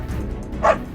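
A stray dog gives a single short bark, close and fairly loud, in a very brief burst.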